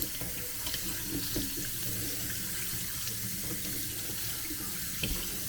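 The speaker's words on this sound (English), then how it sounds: "Now I've got it in the kitchen sink and I'm going to rinse it off with some hot water." Hot water runs steadily from a kitchen sink tap over a K&N air filter being rinsed clean, a continuous close splashing hiss with no talk.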